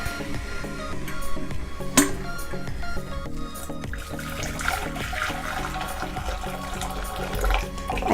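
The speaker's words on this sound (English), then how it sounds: "So let's put our hot water in here." Hot water pours steadily into a container for dyeing a doll's scalp, a continuous splashing, gurgling stream that is close and loud, with brief drips and sloshes and no talking.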